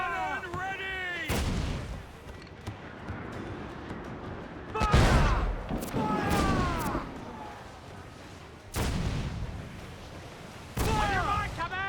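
Ship cannons in Assassin's Creed IV: Black Flag fire in several heavy booming volleys spaced a few seconds apart, with voices shouting between the blasts.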